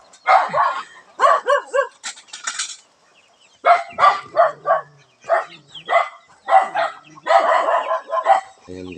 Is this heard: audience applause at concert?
no